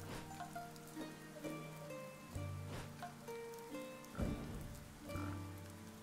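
Rain patters in the video game Dead in Vinland, a soft steady wash running beneath tonal game music notes that rise and fall, with no talking.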